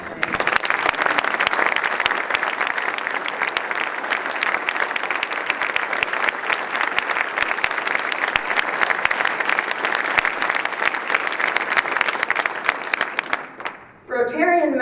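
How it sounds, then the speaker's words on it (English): An audience claps for standing scholarship recipients at a Rotary gathering, a long, loud and sustained round of applause that cuts off abruptly near the end, followed by a brief sound. "Would all the scholars in attendance please stand for a round of applause?"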